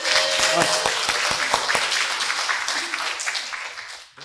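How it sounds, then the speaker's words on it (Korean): A church congregation at a Sunday service claps in distinct, fairly regular beats that blend into looser applause and fade out toward the end, with some voices mixed in. "우리 다 박수 칠게. 자, 박수."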